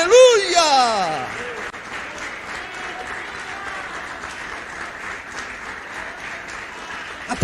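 A church congregation applauds during an evening worship service, loud sustained clapping that runs steadily for several seconds beneath a rising vocal sound and voices at the start.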